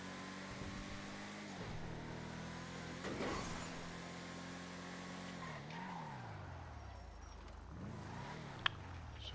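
Car in the FiveM video game cruising with a tonal engine hum, then downshifting and braking hard with tire squeal and skidding, the engine note dipping and rising again afterward, with no voices.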